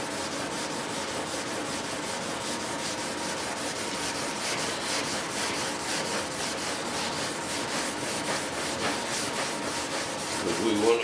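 Sandpaper rubbed steadily over model F-18 wings, a continuous close scratchy rasp with a brief louder stroke at the end and no talking.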